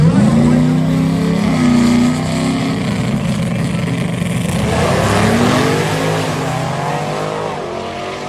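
A drag racing car roars loudly on a pass, engine pitch rising through gears then holding high and sustained with a steady, close, powerful exhaust drone that eases off near the end.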